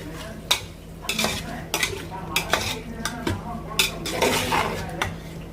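Chicken with masala being stirred in a pot for chicken biryani, repeated scraping and clanking of a spoon against the metal pot over a soft sizzle, close and rhythmic with irregular louder knocks.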